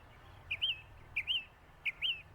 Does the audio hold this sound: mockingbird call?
yes